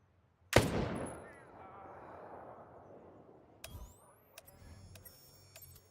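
Gunfire in the video game Ghost Recon Breakpoint: one sharp, loud shot cracks out and echoes away into a long decaying tail, followed by a few fainter scattered pops and clicks.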